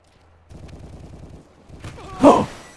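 Rapid bursts of gunfire from Call of Duty: Modern Warfare 3 online multiplayer rattle off in a quick string, then pause before a louder, heavier blast near the end, with faint voices in the background.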